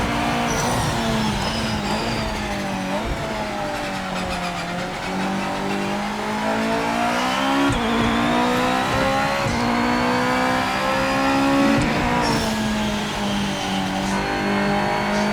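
A Japanese GT500 race car engine in Project Motor Racing roars and revs continuously at the Nürburgring, pitch climbing and dropping through gear changes, loud and close with no voices.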